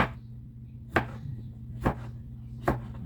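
Tomatoes chopped on a cutting board in a home kitchen: three sharp, distinct knife thuds at steady intervals over a low background hum, with no talking.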